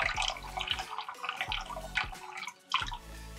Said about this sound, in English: I'm gonna grab the bag with the tongs, drain out as much of the water as I can